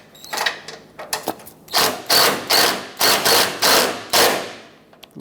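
A ratchet tightens radiator bolts on a 1995-2004 Toyota Tacoma 2.4L four-cylinder, giving a close series of quick clicking strokes, first short and uneven, then about eight steady rhythmic pulls, with no talking.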